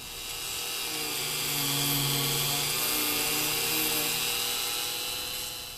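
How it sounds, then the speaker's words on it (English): A steady, continuous drill whir holds at an even pitch for several seconds, loud and close, with no talking, as a drill enlarges holes in a circuit board. "we're going to put it in the drill and just give it a little round"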